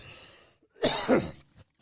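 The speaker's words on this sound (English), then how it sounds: "I had to cough." A single throaty cough, short and close, after a brief pause in quiet room tone.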